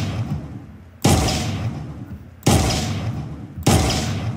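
Three sharp, loud gunshot blasts from an Unreal Engine 4 first-person shooter, each a sudden hit with a long decaying tail, spaced irregularly about a second or so apart, with no talking.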